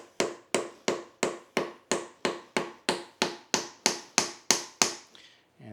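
A steady series of about fourteen sharp, ringing taps, evenly spaced and close by, a mallet lightly striking a cracked ax head to seat it, then quiet.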